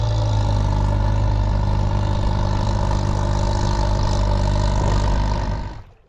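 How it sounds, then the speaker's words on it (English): A sailboat's inboard engine, on a Cornish Crabber, runs loud and close with a steady, throbbing idle and a low mechanical drone, then cuts off abruptly near the end. "I opened the seacocks and I started the engine for the first time."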